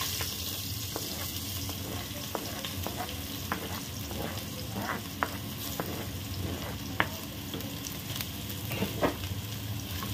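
Chopped onion frying in hot oil for a fish-market-style crab curry, a steady broadband sizzle with scattered spatula clicks and scrapes, close and even throughout with no talking.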